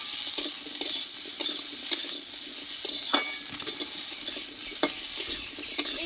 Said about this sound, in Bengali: এই আদাটা আমি একটু ভেজে নেব